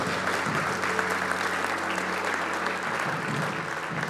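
Church congregation applauding, a continuous dense clapping sound over a low sustained musical drone, holding at an even level for the whole few seconds.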